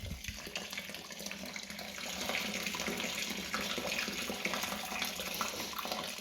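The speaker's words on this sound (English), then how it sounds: "pour the rest of the tap water in. Hot water in." Hot tap water pours steadily into a lager brewing vessel, a continuous close splashing rush that swells slightly louder midway and runs alone with no talk.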